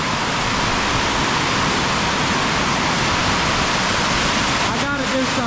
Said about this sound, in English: It's raining really loud.